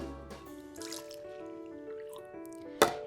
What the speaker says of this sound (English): Once we have our milk measured out, we're going to pour it into our bowl.